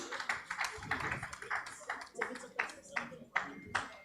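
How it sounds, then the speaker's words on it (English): Scattered, sparse claps ring out at a broadcasting conference as guests walk to the stage, with a few distinct hand claps sounding among voices talking. "Please let's give them a round of applause as they make their way to the stage."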